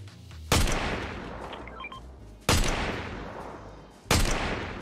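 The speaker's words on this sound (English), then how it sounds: "Lean on that there bad boy drum gun" Gold drum gun in Fortnite firing in three sharp, loud bursts spaced about two seconds apart, each decaying before the next, with a few faint game chimes between.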